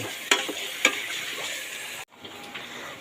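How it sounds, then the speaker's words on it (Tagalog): Chicken sautéing in a pan, a bright continuous sizzle with two sharp utensil clicks early on, then a brief cut and a quieter, softer sizzle. "Sangkutsahin din natin yan dyan"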